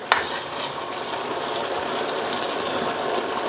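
Cod simmers in a black bean and garlic sauce with green peppers, making a close, continuous bubbling sizzle that starts with a brief sharp tap.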